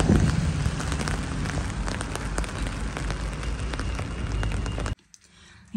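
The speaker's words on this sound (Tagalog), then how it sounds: "Malakas yung ulan." Heavy rain pours steadily and loudly on a nearby surface for about five seconds, a dense continuous wash that suddenly drops away to near silence before returning at the very end.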